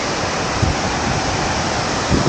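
Steady, dense rush of a mountain waterfall fills the scene, a constant roar with no pauses and no voices.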